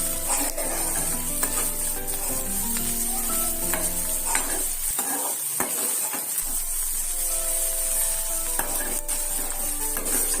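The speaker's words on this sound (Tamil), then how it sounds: "இது கொஞ்ச நேரம் அந்த முட்டையெல்லாம் நல்லா வறுபடுற வரைக்கும் கிளறி விட்டுட்டே இருக்கணும்" Potato and egg fry steadily in a pan with a constant close sizzle, while a spatula stirs and scrapes through it in repeated light knocks and scuffs.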